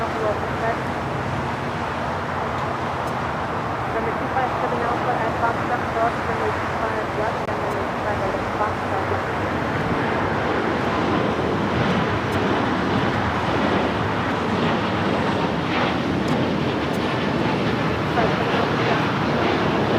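Breeze Airways airliner rolling down runway 25 right at LAX, a steady broad roar of jet engines and ground noise building slightly, heard from a distance with wind and traffic-like rumble throughout.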